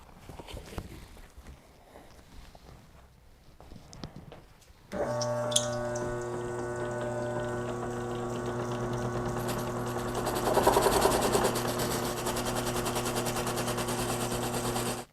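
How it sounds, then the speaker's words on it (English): A new, soft guitar buffing wheel spins up and is broken in with a rake. A quiet rattle gives way to a loud, steady motor whine with a rough scraping texture layered over it. "these softer wheels do get torn up quite a bit initially from the rake"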